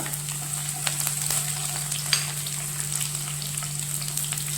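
Curry leaves and green chilies fry in oil in a pan for a mushroom pepper roast, a steady soft sizzle with scattered crackles and faint stirring scrapes, under a constant low hum.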